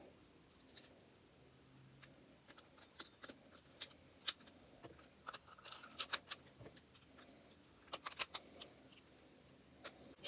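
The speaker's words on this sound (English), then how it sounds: "let's get that recoil spring in there" A recoil spring is worked into a Soviet TT-33 Tokarev pistol, giving a scattered string of faint, crisp metallic clicks, scrapes and small clacks at close range in a quiet room.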